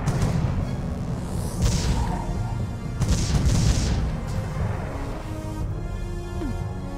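A cannon tower in Defense Grid fires several deep booms spaced a second or two apart, each with a rumbling tail under a low steady game hum, and no talking.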